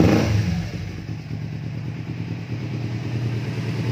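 A Kawasaki Ninja 250 KRT special edition motorcycle idles close by after starting. Its twin-cylinder engine gives a steady, even burble with a light mechanical clatter, and no one speaks over it.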